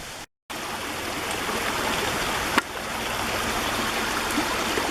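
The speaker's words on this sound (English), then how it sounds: "Creek levels are really low right now." Steady, gentle rush of a low creek running over rocks near the abandoned village of Rausch Gap, close by, with one brief dropout and a faint click.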